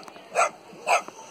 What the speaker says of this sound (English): this is a typical Chinese dog too